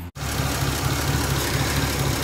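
1951 Ford Custom with its original 239-cubic-inch flathead 8BA V8 running: a steady, dense idle rumble that starts after a brief gap and stays loud and even to the end, with no voices.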